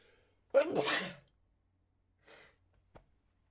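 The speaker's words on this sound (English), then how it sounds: "Oh, I'm gonna sneeze." A single loud, close sneeze bursts out, followed by a faint breathy sound and a small click, then quiet.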